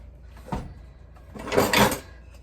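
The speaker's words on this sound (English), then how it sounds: "Okay, now I'm going to start tackling the drawer." A kitchen utensil drawer is pulled open during a decluttering session, giving a brief rattle, then a louder sliding clatter of wood and metal a second later.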